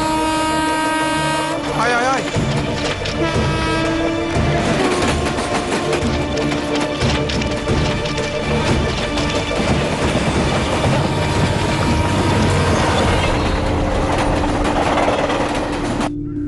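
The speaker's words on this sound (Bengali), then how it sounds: "ট্রেন আসছে ভাই।" Train approaching on the railway line with loud, continuous rumbling and rhythmic clattering wheels, horn tones sounding early and again later, and someone shouting under the noise.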